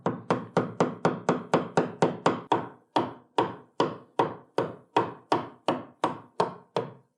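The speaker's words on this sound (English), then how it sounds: "So I'm going to use a chisel and a mallet, and I can start up high" A mallet drives a chisel into a wooden seat to round it out, giving a long run of sharp, evenly spaced wooden knocks, close and loud, with a brief pause partway through.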